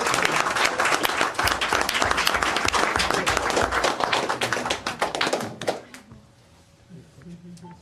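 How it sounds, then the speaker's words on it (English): Council meeting audience gives a coach a loud, dense round of applause, sharp crisp claps filling the room for several seconds before stopping abruptly, leaving a quiet room with faint voices. "Huge round of applause."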